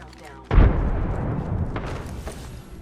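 A frag grenade goes off in a ranked online shooter game: one sudden heavy boom that rolls out into a long rumbling tail, loud and close, over faint game background.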